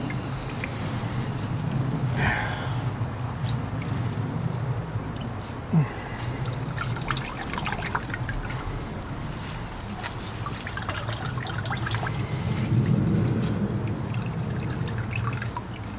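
Homemade grape wine trickles and dribbles steadily as it is poured during racking, a soft, close liquid stream running continuously with small splashes.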